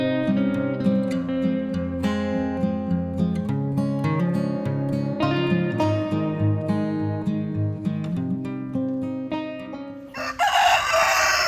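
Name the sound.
rooster crowing and chickens clucking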